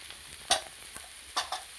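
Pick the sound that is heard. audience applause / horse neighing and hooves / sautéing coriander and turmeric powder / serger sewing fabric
sautéing coriander and turmeric powder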